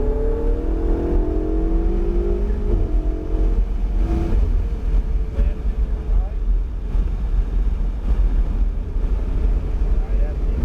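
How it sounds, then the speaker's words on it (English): A car accelerates hard around a driving track, its engine note climbing and falling through turns, loud with wind buffeting the microphone and a voice talking over it. "Keep accelerating out to the right and back out to your left."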